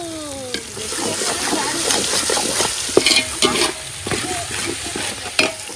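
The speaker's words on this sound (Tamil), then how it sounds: "தக்காளி சேர்த்து வதக்கிட்டு இருக்கோம்." Tomatoes sautéing in a pan with ginger-garlic paste for biryani give a steady, close sizzle, broken by repeated stirring scrapes and a few sharper clinks of a spoon against the pan.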